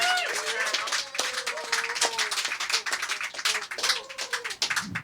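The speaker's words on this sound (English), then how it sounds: "So can we clap for our organizer?" An audience at a poetry reading in a coffee shop claps for the event organizer, a crisp scattered patter of hands mixed with voices talking over it and clinking background noise.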